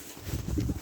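A pigeon at a countryside cottage where chickens and pigeons are kept gives a single short, soft, low coo, fairly quiet and close, with no talking.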